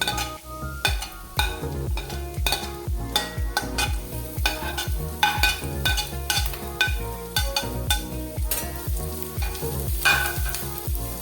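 Chopped onion, green chili, garlic and ginger sizzle and fry in a pan for an Onam ginger curry, with a steady crackling hiss and repeated scraping stir strokes at a regular rhythm, close and fairly loud.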